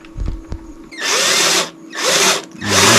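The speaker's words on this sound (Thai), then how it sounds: "เอาน็อตสองตัวยิงทะลุเลย" A power drill drives two screws straight through, with a few knocks and then three loud, close bursts of whirring drilling.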